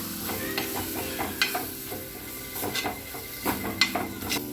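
Kashmiri chilli and turmeric powder fry in a pan for fish curry, a steady soft sizzle under repeated scraping and clinking strokes of a spoon stirring against the metal.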